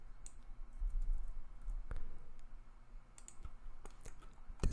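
Scattered computer mouse clicks at a desk while drafting in pipe network design software, quiet and close, several single sharp clicks spread out over low room hum.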